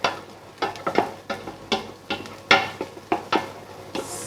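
Onions browning in a pan for a spiced beef stew, with a steady sizzle under repeated stirring scrapes and clacks of a utensil against the pan, close and fairly loud.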